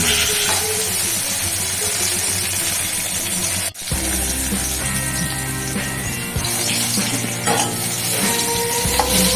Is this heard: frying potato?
yes